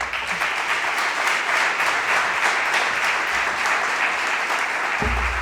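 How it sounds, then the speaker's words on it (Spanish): Sustained audience applause welcomes a speaker at a youth gastronomy talent forum at the Basque Culinary Center, steady and full for several seconds, ending with a brief low thump. "Y ahora me encantaría que estuviera aquí, bueno, por favor, y la compartiera con todos nosotros. Un aplauso."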